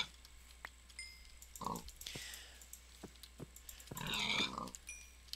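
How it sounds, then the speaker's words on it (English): Pigs in the Minecraft 1.8 video game give a couple of short grunting oinks amid faint clicking, with a louder burst of game noise near the end; no talking. "Might as well kill some pigs."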